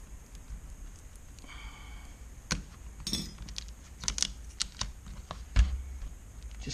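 Old tape is peeled slowly off an LCD panel, giving soft crackling rips and small clicks and taps, close and quiet, with no talking.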